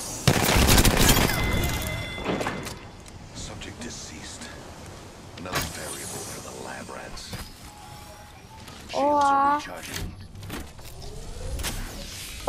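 Gunfire in the video game Apex Legends: loud rapid bursts of automatic fire up front, then scattered, sparser shots and other game effects through the rest.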